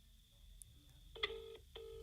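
A telephone rings during a call on a Christmas Eve radio show, with two clear electronic ring bursts in quick succession that sound faint and a little distant over a quiet background.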